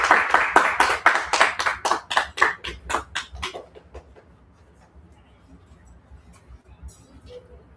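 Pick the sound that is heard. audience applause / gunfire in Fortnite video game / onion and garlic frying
audience applause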